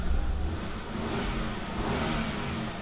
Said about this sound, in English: Yep, there we go, started up pretty much immediately.